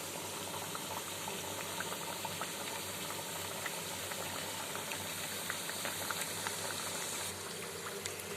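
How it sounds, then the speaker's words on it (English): Veg McPuffs deep fry in oil over a low-medium flame, giving a steady, soft bubbling sizzle with scattered small pops, close by and continuous, with no speech. "We will be adding our veg McPuffs in oil in low medium flame and then frying them till they turn golden brown."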